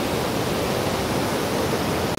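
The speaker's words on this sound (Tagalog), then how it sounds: "Lakas ng tubig" A strong river current rushes in a loud, continuous roar of churning water at a crossing point, steady and close with no breaks.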